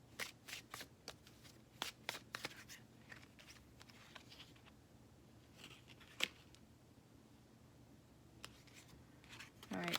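Tarot cards shuffled by hand in a quiet room, crisp irregular riffling and slapping bursts, close and soft, with pauses between clusters.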